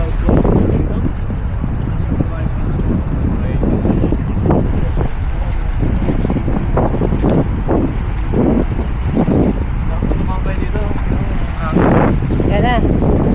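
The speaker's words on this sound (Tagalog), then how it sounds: "It's so windy." Strong wind buffets the microphone outdoors in Dubai, a loud continuous roar with rumbling gusts throughout, while people talk and call out over it.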